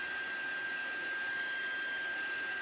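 A heat tool drying ink on paper blows a steady, even whir with a faint high whine, continuous and fairly quiet throughout with no voices.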